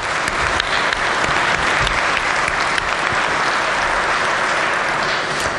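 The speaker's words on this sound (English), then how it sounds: "Give them a round of applause." Dense, steady applause rings through a state legislature chamber in West Virginia as guests are honored, many hands clapping evenly without pause.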